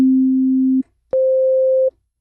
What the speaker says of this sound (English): if I say sine, do you think of this type of tone?